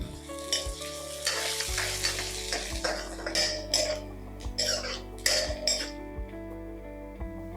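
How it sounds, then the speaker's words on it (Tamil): Chopped large onion sizzling in a pan of oil for chicken gravy, with a steady close crackle, repeated metal spoon scrapes and clinks as it is stirred. "இதில் ஒரே ஒரு பெரிய வெங்காயத்தை சின்ன சைஸாக எடுத்து கட் பண்ணி இதில் சேர்த்துடலாம்."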